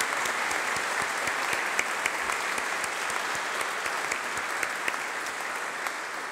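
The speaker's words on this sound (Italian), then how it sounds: "Vogliamo fargli un applauso." A church congregation at Sunday Mass in a sanctuary applauds a newly presented deacon, a steady, reverberant patter of many hands with a regular rhythmic clap pulse running through it, moderately loud and even throughout.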